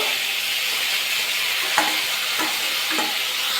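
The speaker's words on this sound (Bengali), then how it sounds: "সবজিকে ভালো করে একটু কষিয়ে নেব" Bottle gourd greens and vegetables sauté in a pan with moong dal and a splash of water. A loud, even hiss runs throughout, with a few faint utensil taps near the end.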